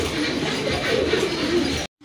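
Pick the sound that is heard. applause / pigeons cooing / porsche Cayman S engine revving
pigeons cooing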